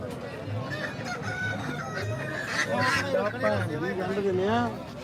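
A small bantam rooster crows in a thin, high rising call near the listener at a livestock market, with clucking fowl and people talking in the background.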